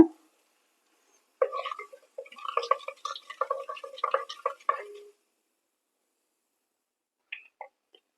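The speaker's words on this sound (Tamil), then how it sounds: "எண்ணெய் நல்லா சூடாயிடுச்சு இப்போ தாளிச்சிக்கலாம் அதுக்கு கடுகு வெந்தயம் சேர்த்துருக்கேன் இது நல்லா பொறிஞ்சி வரட்டும்" Mustard and fenugreek seeds splutter in hot oil while tempering for a Karaikudi paruppu urundai kuzhambu, a close run of crackling pops lasting a few seconds, then a couple of isolated pops after a quiet pause.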